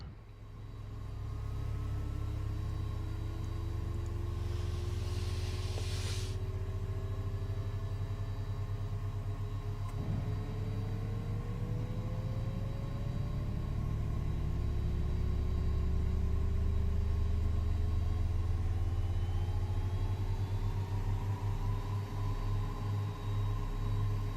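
A Learjet 35A's engines spool up in Microsoft Flight Simulator 2024, a low steady rumble with rising whine tones that climb gradually, joined by a brief hissing burst early on, no talk.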